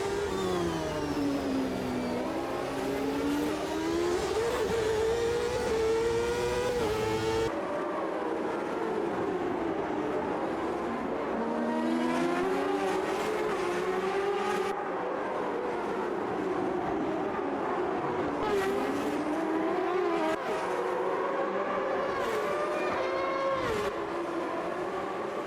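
Historic Formula USA Generation 3 race cars, modelled on the 2000 championship season, race in the Automobilista 2 sim game, engines loudly and continuously revving up and down through gear changes with no talk.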